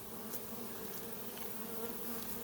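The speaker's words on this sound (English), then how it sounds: "there's a lot of bees flying that belong in this box" A low, constant buzzing hum of many honey bees flying nearby around a swarm trap, steady and quiet throughout with no voices.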